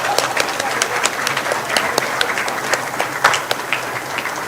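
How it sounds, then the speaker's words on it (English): Steady applause from a school board meeting audience honoring school principals, many hands clapping with distinct individual claps standing out, continuous throughout. "Let's give them a real round of applause."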